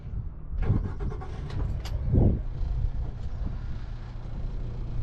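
An AMT 190 boat outboard motor starts up on the water, settling into a steady running drone with a couple of brief louder surges near the start.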